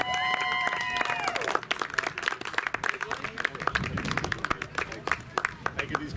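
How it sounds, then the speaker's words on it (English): A crowd applauds the runner-up 10U youth baseball team at a tournament wrap-up, clapping starting dense and loud then thinning into scattered claps, over a brief tonal sound at the start. "Give these guys one more round of applause."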